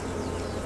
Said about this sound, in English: This is typical of the three-banded Italian bees.